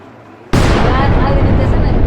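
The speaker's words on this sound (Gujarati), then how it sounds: "જુઓ અમારા ફટાકડા ફૂટશે આનાથી" A homemade firecracker set off for Diwali bursts with a sudden loud blast after a quiet moment, followed by sustained harsh crackling hiss close by.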